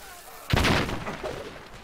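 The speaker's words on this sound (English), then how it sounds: "Those are German bombs." A German bomb explodes in the video game Valiant Hearts: a sudden loud blast about halfway in, with a rumbling tail that decays over the following second.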